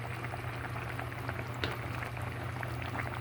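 Sardine soup with onion and misua noodles bubbling in a pot, a steady low simmering burble with soft popping bubbles, close and fairly quiet, no talking.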